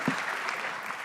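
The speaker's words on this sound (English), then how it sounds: "Can we get a big round of applause for our board of change makers?" Brief burst of audience clapping at a livestreamed conference session, a dense, steady patter lasting about a second.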